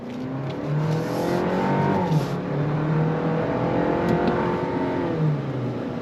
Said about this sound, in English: Let's go on throttle. On throttle, here we go.